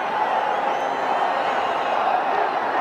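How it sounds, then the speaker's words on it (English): Cricket stadium crowd during an India versus Australia one-day international, a broad, steady roar of cheering that keeps an even, loud level throughout without distinct individual voices. "The crowd getting excited"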